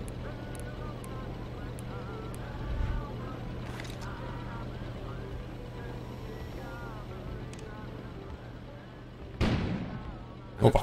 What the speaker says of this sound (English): An Опа. explosion suddenly occurred outside. Выстрелил.